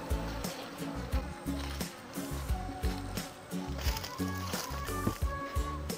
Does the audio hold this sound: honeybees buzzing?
yes